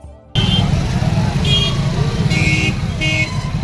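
Dense road traffic at the Prayagraj Maha Kumbh fair: a loud, steady engine rumble close by, with several short horn blasts rising above it and a voice talking over it.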